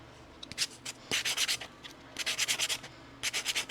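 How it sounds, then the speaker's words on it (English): Hand sanding a dry 3D-printed Mike figure smooth, close rhythmic bursts of scratchy rubbing strokes in quick groups of four to six, separated by short pauses, with no talk heard. "I'm just gonna sand it down to give me a nice smooth surface again"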